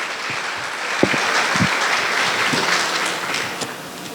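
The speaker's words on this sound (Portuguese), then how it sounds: "aplauda Ele bem forte" A church congregation claps together in loud, sustained applause for about four seconds, a dense steady patter with a few sharper claps standing out and faint voices underneath.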